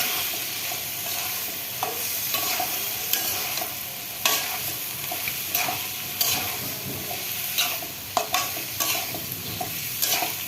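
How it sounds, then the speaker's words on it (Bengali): A spoon scrapes steadily through mixed ingredients in a frying pan, stirred gently with soft irregular clinks over a constant bright sizzle that runs throughout, close and fairly loud, with no talking. "তো আমি এক এক করে এগুলো সব একটার সাথে একটা একদম সুন্দরভাবে মিশিয়ে ফেলবো আলতোভাবে।"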